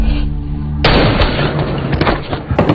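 A gunshot in a film scene: one sudden loud blast a little under a second in, cutting over the background soundtrack and followed by a rumbling, crackling tail.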